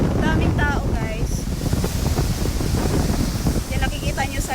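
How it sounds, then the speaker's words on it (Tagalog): Windy seaside along the Jeddah corniche, with gusty wind roaring across the microphone and surf underneath, while people talk intermittently over it. "medyo mahangin talaga siya guys. Mahangin."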